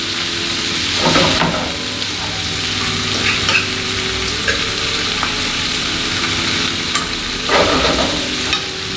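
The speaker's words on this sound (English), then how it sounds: "you just continue kind of sauteing, moving it back and forth" Vegetables sautéing in a hot pan alongside pork chops, with a steady close sizzle and periodic swishing bursts as they are pushed back and forth, and no voices over it.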